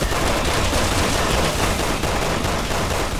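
Dense, continuous gunfire in Resident Evil 6's Mercenaries mode, rapid overlapping shots forming a loud, sustained barrage with no pauses.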